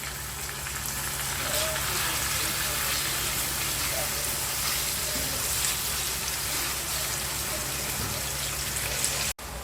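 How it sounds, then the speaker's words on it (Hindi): Minced mutton keema fries in a pan while a spoon stirs it, making a steady, dense hiss and sizzle that carries on evenly throughout. "अभी इसमें कीमा डालेंगे और कीमे को अच्छे से भूनेंगे, चम्मच चला चला चला के भूनेंगे"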